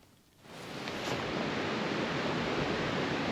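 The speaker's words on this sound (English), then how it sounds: "I hear water flowing." Steady rushing water of a creek near King's Creek Falls in Lassen National Park, a broad continuous roar that swells in after a quiet start and holds loud and even.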